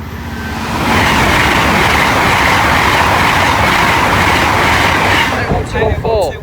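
A train passes Tallington level crossing with a loud, sustained rumble and roar that holds steady for several seconds before thinning out, with brief voices emerging near the end.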